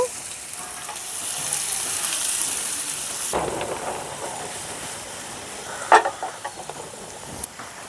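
Chopped onions, three medium ones, land in hot oil, and a strong hiss builds into a steady close sizzle, followed by a few sharp stirring clatters against the pan.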